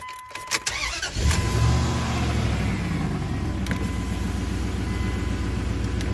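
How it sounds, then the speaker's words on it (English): A 2002 Dodge Dakota truck engine cranks briefly and catches, then settles into a steady, loud idle that continues close by, with no talking. "All right, let's fire this truck up."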